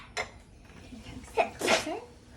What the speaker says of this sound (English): Thank you for sneezing into your elbow